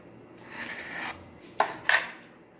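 A knife cuts through a cream fruit sandwich on a plate, with a soft rasping slice followed by two sharp clicks of the blade against the surface, close and fairly quiet.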